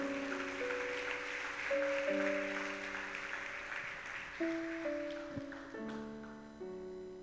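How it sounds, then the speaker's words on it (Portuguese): A church congregation at an evening celebration service applauds over sustained keyboard chords from the worship band, the clapping fairly soft and slowly tapering off. "Você pode aplaudir o Senhor pela palavra?"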